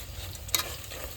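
Puliyogare masala for foxtail millet tamarind rice stirred and frying in a pan over low heat, a steady soft sizzle with a brief scrape of the spoon midway, no talking.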